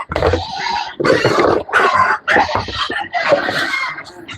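Breeding sows on a farm grunt and squeal loudly and close in overlapping bursts, with short gaps between the rough snorting calls.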